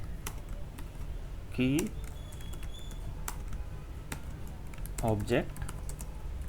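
Keys clatter steadily as code is typed on a computer keyboard, a run of quick close clicks with short pauses, while someone speaks briefly twice over the typing.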